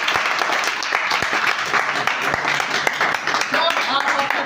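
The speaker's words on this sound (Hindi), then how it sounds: "इनके लिए जोरदार ताली।" Loud audience applause fills a hall at a motivational talk, dense sustained clapping from many hands with voices mixed in.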